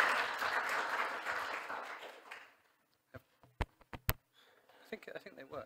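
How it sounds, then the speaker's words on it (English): Audience applause at an annual meeting, a brief burst of clapping that fades out within about two seconds, followed by a few scattered taps and handling knocks. "Please, a round of applause for their spokesperson."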